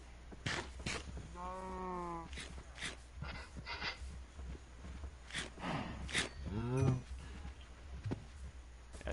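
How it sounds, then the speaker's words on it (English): Cows lowing in the Minecraft video game, two drawn-out moos heard among clicks and shuffling game sounds, moderately loud and without talk. "I think we have an odd number of cows here."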